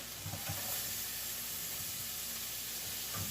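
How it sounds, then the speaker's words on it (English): Chopped onions sauté in a single pan for Asian pork fried rice, giving a bright, continuous sizzle with occasional soft stirring bumps, close and steady throughout. "Saute these onions. Put a little bit more."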